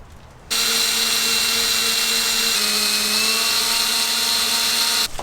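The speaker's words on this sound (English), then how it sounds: "so just pre-drill each section here" A power drill pre-drilling holes during a Sprinter van window install: one steady, loud, high whine starting abruptly, holding for about four and a half seconds with a slight pitch drop midway, then cutting off, close up with no talk.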